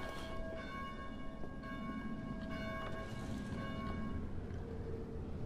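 Church bell tolling in the zombie game Dead Island, a steady ringing with sustained overtones carrying over a constant low rumble of ambient game sound, no voices.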